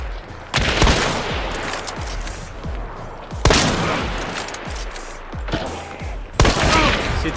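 Gunfire rattles through a hunting-and-extermination video game: sustained volleys of crackling shots and scattered reports, punctuated by three sharp, loud blasts spaced a few seconds apart.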